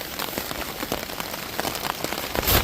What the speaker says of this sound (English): I don't know if you're gonna hear it over the rain